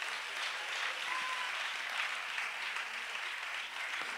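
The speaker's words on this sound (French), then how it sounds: "Acclamons le Seigneur pour cela." A church congregation applauding in praise, a dense, steady wash of clapping from many hands filling the room for a few seconds.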